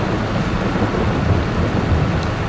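Rain and thunder in the Farming Simulator 22 video game: a dense, steady downpour with a deep rolling rumble underneath, loud and continuous throughout.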